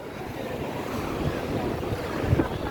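Ocean waves roll onto Hulhumale public beach in the Maldives in a continuous wash of surf, with gusty wind buffeting close by and no voices.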